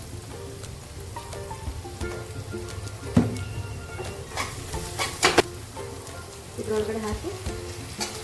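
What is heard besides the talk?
rice frying and being stirred in a pan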